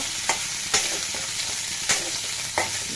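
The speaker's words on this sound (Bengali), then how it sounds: "মশলার সাথে ভেজে নেব।" Potatoes fry with spices in a pan under a steady, bright sizzle. A few sharp spoon scrapes break through as the mix is stirred, and no one speaks.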